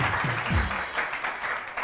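Studio audience applause on a weekend talk show, a steady wash of clapping filling a short stretch, with a low murmur of voices underneath.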